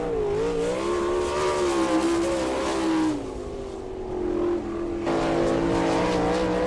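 Winged sprint car circling the dirt oval at Attica on a qualifying lap, its engine a loud sustained roar whose pitch rises and falls, briefly dropping off midway before surging back at full throttle.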